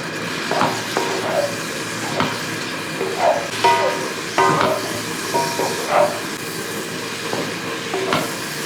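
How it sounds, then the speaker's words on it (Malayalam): Beef curry is stirred in a pan, with repeated scraping and clanking strokes of the spoon over a soft simmering sizzle, close and fairly loud, with no voices. "ഇനി ഒന്ന് ഇളക്കി കൊടുക്കും"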